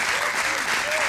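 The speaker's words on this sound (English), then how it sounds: "Clap your hands and praise him this morning." A church congregation claps hands together in praise, a dense, steady wash of clapping throughout, with a voice carrying over it.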